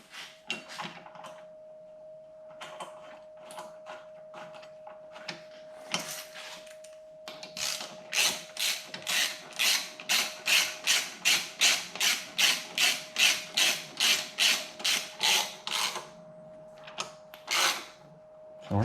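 Bolts are threaded by hand into a crash bar on a 2020 Yamaha Tracer 900 GT motorcycle, giving a rapid, even series of close metallic ratcheting clicks after a few scattered earlier clicks, joined by a steady tonal hum.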